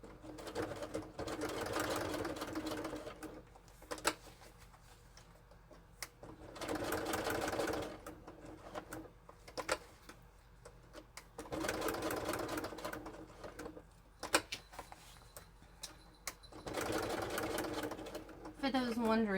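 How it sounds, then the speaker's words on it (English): A Juki HZL quilting sewing machine stitches applique in several distinct runs of steady mechanical whirring, each a few seconds long, separated by pauses where someone talks. "For those wondering what kind of machine I'm using to do this, this is a Juki HZL."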